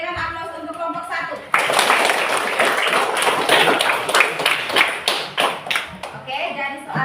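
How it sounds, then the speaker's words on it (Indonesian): Classroom applause for a student group breaks out and runs for several seconds, with dense uneven clapping from many hands, while a voice speaks at the beginning and end. "kita berikan aplaus untuk kelompok 1"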